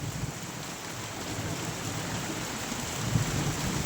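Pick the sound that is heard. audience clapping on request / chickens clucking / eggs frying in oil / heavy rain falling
heavy rain falling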